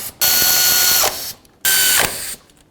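Ratchet snugging alternator bolts on a 2001-07 Toyota Sequoia during serpentine belt tensioner work: two loud, close bursts of rapid clicking, each lasting about a second, with a brief pause between them.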